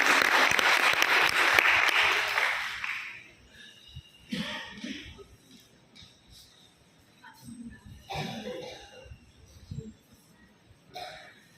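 An audience applauds a speaker at a college seminar at H.D. Jain College, Ara. The clapping is dense and loud for a few seconds, then fades into scattered voices and murmurs.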